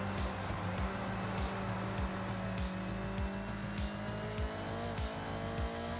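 A car in Forza Horizon races along with a steady engine drone and rhythmic tire and gear pulses, its pitch shifting as it slows for a corner.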